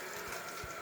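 Water runs through a Korky QuietFILL toilet fill valve into the tank with the valve fully open, making a faint, steady hiss with no breaks.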